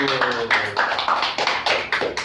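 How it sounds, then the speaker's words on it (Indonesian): Women in a stunting-prevention training session clap together in a quick run of distinct, fairly close claps, loud and rhythmic for a couple of seconds. "tepuk tangan untuk ibu-ibu dulu"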